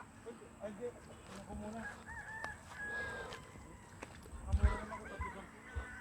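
Faint clucks and calls from hens, with a honking goose-like cry among them, over low background noise and occasional murmured voices.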